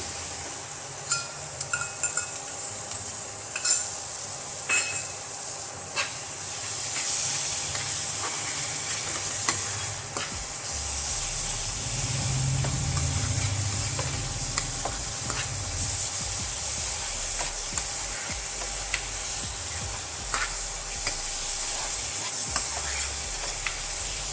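Spoonfuls of curd drop into hot nutri masala in a pan, setting off a steady frying hiss that swells midway, with scattered sharp clinks and scrapes of a spoon stirring; nobody speaks.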